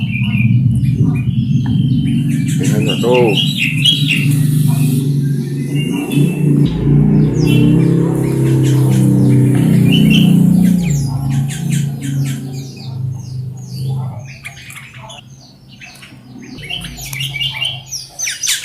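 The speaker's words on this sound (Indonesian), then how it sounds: "inilah koleksi burung kutilang saya" Sooty-headed bulbuls (kutilang) chirping in a collection of caged birds, with repeated bright calls and squawks mixed with a louder low rumble of background noise, while someone speaks briefly.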